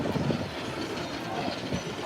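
Roller coaster train at Knott's rumbling along its track in a steady, continuous roar with a faint rattling clatter, heard from a moderate distance and alone without any voices.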